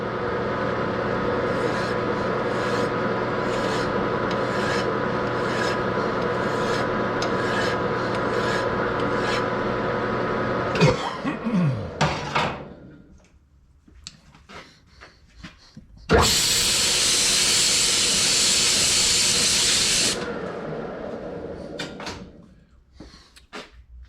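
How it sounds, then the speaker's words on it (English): A metal hand file rasps steadily across an LS3 intake manifold, taking burrs off in rapid repeated strokes, then a pause with clunks and a harsher, brighter stretch of filing before it tapers off. "Get a file here, file off the tops of this, get all the burrs off."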